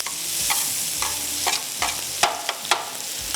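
Onions for a tawa chicken qeema are stirred and lightly fried in a pan, with a soft continuous sizzle broken by repeated close scraping strokes of a spatula.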